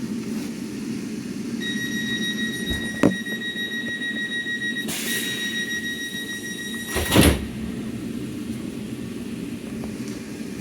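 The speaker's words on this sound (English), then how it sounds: "Very satisfying door sounds." Sliding doors on a Southeastern passenger train heading to London Victoria, with a short beeping warning tone, then two brief whooshing door movements over the steady low rumble of the train interior.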